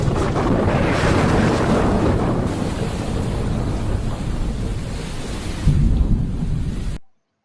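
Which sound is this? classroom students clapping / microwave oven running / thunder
thunder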